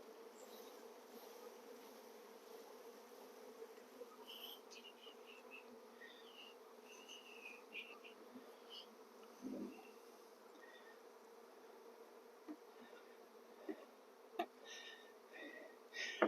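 Many honey bees buzz steadily around a hive box close by, a constant humming drone with occasional louder passes near the listener.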